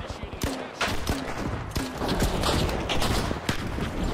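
Bursts of gunfire from The Finals sound in a busy firefight, with shots crackling repeatedly among clattering effects and general game noise, at moderate loudness.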